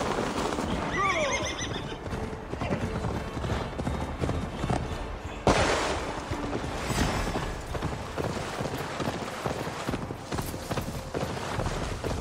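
Horse hooves pound rapidly in a steady gallop with whinnies and creaking tack, loud and close, over a busy Assassin's Creed Valhalla game soundscape with faint voices.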